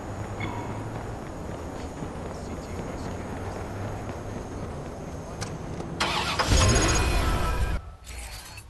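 A car engine starts up in the Watch Dogs video game, a loud burst rising out of steady game ambience and traffic noise near the end, then cutting off abruptly.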